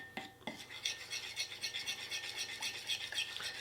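A spoon stirs natural deodorant ingredients in a bowl, giving quiet rhythmic scraping and rubbing strokes with light clinks, close and soft, repeating steadily throughout.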